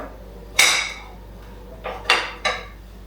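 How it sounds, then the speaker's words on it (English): A wooden spoon knocks and rolls against a table in short, loud bursts: one sharp clack, a pause, then a quick cluster of three hits, close and dry with quiet between. "Can you roll your wooden spoon against the table?"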